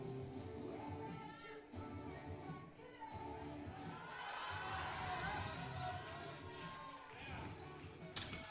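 Powerlifting meet crowd cheering a woman's 230 kilo deadlift attempt, a loud sustained roar of shouts and yells from a mixed crowd, swelling midway and continuing to the end.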